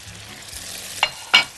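Potatoes for an Asian potato salad being tossed in a hot pan: a quiet low sizzle, then two short scraping stirs, the second louder.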